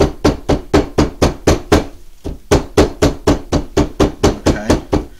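Someone pounds a freshly trimmed rope splice to flatten its ends. Close, loud, evenly spaced thuds come in two runs of about eight blows each, with a brief pause between.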